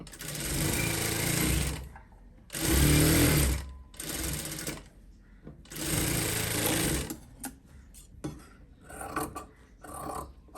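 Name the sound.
sewing machine stitching fabric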